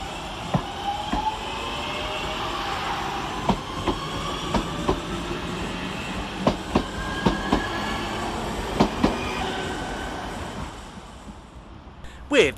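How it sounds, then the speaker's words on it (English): A Northern class 323 electric multiple unit pulls out of Manchester Oxford Road on a Crewe to Liverpool Lime Street service, with a steady rolling rumble, repeated clicks as the wheels cross rail joints, and a faint squeal as it fades. "Next out for departure is 323225, working the 1326 Northern service from Crewe to Liverpool Lime Street via St Helens"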